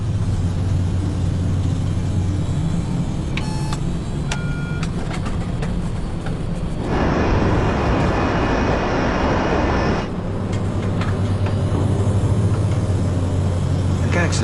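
Jet engines of an MD-82 airliner cruising at altitude give a steady, loud, broadband roar. Brief electronic tones sound early on, and the roar surges louder for a few seconds midway before settling back.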